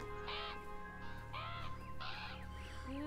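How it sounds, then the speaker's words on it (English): Crows caw in the video game Beyond Eyes, three or four harsh, spaced calls at moderate distance over a quiet ambient hum, with no talking. "Oh, these birds are gonna fuck some shit up."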